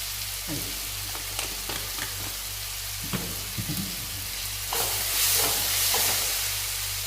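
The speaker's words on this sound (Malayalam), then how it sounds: "തക്കാളി വഴണ്ട് വെച്ചിട്ട് നമുക്ക് ഏകദേശം മഞ്ഞപ്പൊടി വെച്ച് കൊടുക്കാൻ." Chopped tomatoes sautéing with turmeric in a pan, a steady loud sizzle and frying hiss throughout, with occasional stirring clicks and scrapes and a brief surge of sizzling near the end; no talking.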